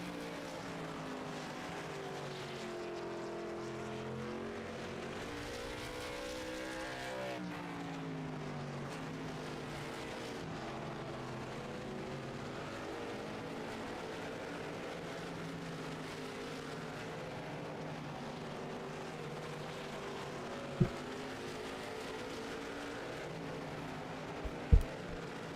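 Race cars lap a short oval track in a USRLA event, their engines forming a continuous distant roar that swells and fades as the field circles, steady throughout with no talking.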